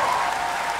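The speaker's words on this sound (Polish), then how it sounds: "Brawa! Robert Biedroń." Audience applause fills a brief moment at a festival stage meeting during Woodstock 2017, a dense, steady wash of clapping from a large crowd, loud and continuous with no voices on top.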